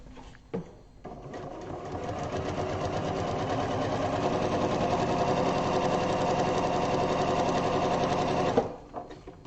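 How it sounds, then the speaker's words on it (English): A sewing machine stitches along a printed line for foundation paper piecing a quilt block. It hums steadily at close range for about seven seconds, starting up and stopping cleanly. "So we're going to sew again on that line, the solid line going between the two."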